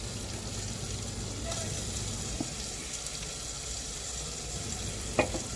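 Mutton bones frying in a pan in a traditional kitchen, a steady close sizzle with a few clinks and stirs near the end.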